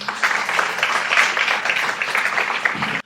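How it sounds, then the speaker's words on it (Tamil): Students in an audience at a school performance give a round of applause, a steady wash of many hands clapping that continues evenly and then cuts off abruptly. "நீங்களே ஒரு பலத்த கரகோஷம் கொடுக்கலாம்"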